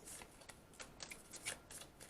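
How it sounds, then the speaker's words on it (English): Tarot cards are shuffled by hand in a series of quick, soft riffling bursts, close and fairly quiet, with no talking. "Let's do one more shuffle now."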